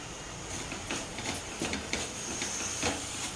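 Curry leaves roasting in a pan, giving a steady close hiss and faint crackle with scattered soft clicks of stirring, no voices.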